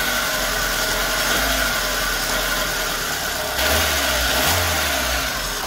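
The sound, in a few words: Hyundai Accent engine idling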